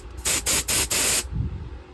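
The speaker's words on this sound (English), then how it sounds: "this stuff works real good to break up gunk in the carburetor. Going to spray it in there" Carburetor cleaner hisses from an aerosol can into the carburetor of a Traxxas Slayer nitro RC truck in four loud, close bursts, the last one longest, followed by a quieter rustle.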